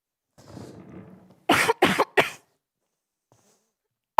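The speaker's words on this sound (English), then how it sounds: "Honestly, of all times to get a tickly cough." A tickly cough: a faint breathy throat noise followed by three sharp, close coughs in quick succession, then quiet.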